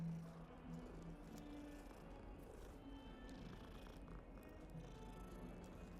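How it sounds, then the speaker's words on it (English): A cat in the Hogwarts Legacy video game purrs while being petted, a soft, continuous rumbling purr that runs steadily throughout at low volume, with no talking. "Gotta pet the kitty at least once."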